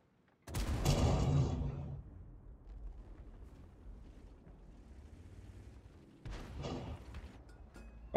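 A tank gun fires once in World of Tanks, a heavy booming blast followed by a rumbling decay, then a second sharper report a few seconds later.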